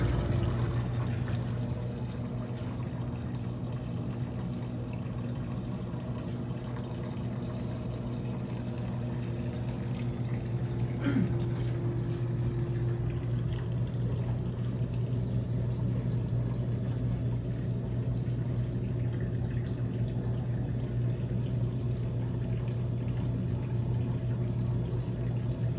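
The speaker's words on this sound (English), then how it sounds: "Water just come over this weir" Water pours over a weir and drains into the reservoir of a recirculating lab flume, a steady continuous rushing with a low constant hum of machinery underneath.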